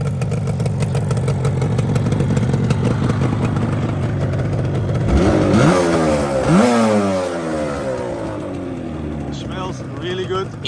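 A two-stroke 1981 Yamaha RD350LC motorcycle engine, rebuilt, idles with a rough, buzzing beat, then revs up and down sharply several times before settling back, loud and close.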